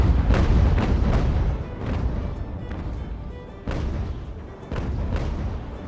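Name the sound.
naval cannon fire on sloop in video game Ultimate Admiral: Age of Sail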